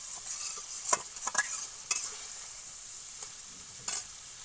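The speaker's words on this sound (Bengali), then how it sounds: "আমাকে একটু সময় নিয়ে খুব সুন্দর করে মশলাটা কষাতে হবে" Spice masala for potato and egg curry fries in oil with a soft, even sizzle, and a spatula stirs it in a few quick scraping strokes.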